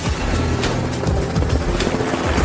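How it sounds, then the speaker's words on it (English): An MH-65 Dolphin helicopter's steady rotor thump and turbine whine, loud and continuous, filling the whole clip with no voices. "It's a great helicopter."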